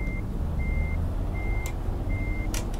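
Euro Truck Simulator 2 truck idles with a steady low rumble while short bursts of air-brake hiss break through near the end, and repeated reversing-style warning beeps sound throughout.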